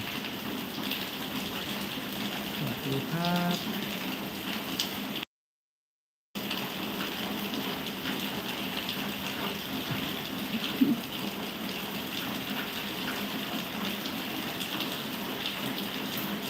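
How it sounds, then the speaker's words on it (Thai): Heavy rain pours down in a dense, constant hiss that never lets up, broken by one brief total dropout, with a faint voice near the start. "ฝนตกเสียงดัง"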